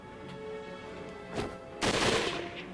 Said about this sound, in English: More gunshots echoed, but not from the castle this time.